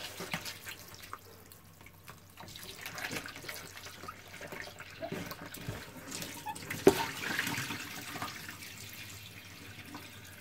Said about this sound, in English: I'm gonna drain it there for now.